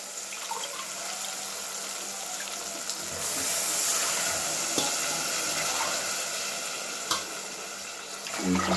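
Steady broadband rush of water pouring onto rice, swelling louder midway, with a faint clink near the end; no voices.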